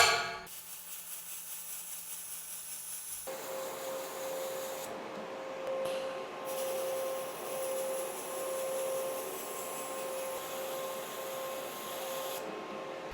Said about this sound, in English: A lot of people ask me to weld both sides and see how that holds up, so let's go ahead and do it.